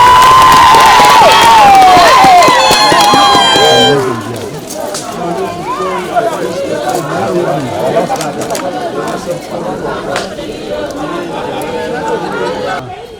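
A large outdoor rally crowd in Siaya County greeting Raila, loud cheering and shouting with whistles at first, then settling into sustained crowd chatter and scattered cries.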